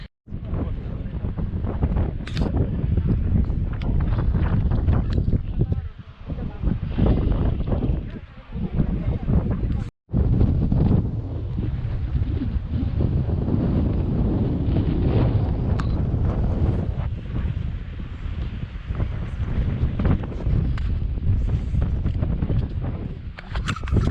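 Heavy wind at a UK beachside village buffets the microphone almost continuously, a loud roaring rumble with brief gaps, as a voice speaks now and then beneath it.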